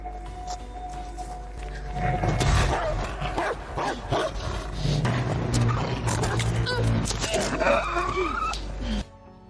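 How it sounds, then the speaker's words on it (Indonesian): A pet dog aboard a ship barks and yips in short, scattered bursts amid shifting background noise, while a voice talks throughout. "Mendengar acu peliharaannya menggonggong, si Bang Bang pun bergegas mengeceknya"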